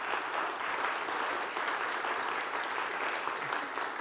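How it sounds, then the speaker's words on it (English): A congregation claps in a chapel, a moderately quiet, steady wash of many hands that keeps going evenly from start to finish. "Go ahead and applaud."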